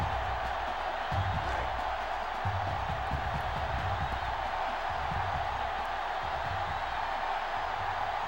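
Stadium crowd noise in NCAA Football 06 during a college football game: a steady, dense roar of cheering fans with no letup, under a commentator's voice.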